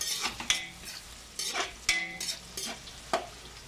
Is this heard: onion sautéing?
yes